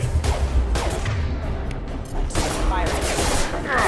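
Sci-fi gunfire from Mass Effect 2 Legendary Edition, a dense fusillade of rapid shots with a short lull near the middle, loud and close over a continuous rumbling game soundscape with faint voice-like elements.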